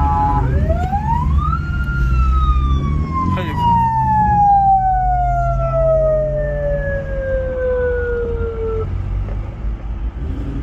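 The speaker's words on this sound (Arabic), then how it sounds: "جت الشرطة جت خلت تعبر الشرطة." Police car siren passing at a car meet, a loud wailing tone that rises and then slowly falls, over rumbling engines and road noise with voices nearby.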